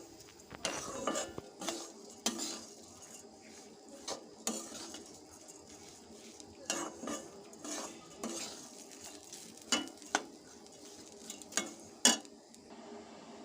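Metal spoon scraping and clinking against a pot while bhuna khichuri ingredients are stirred and mixed, a steady run of close taps and scrapes in an otherwise quiet kitchen.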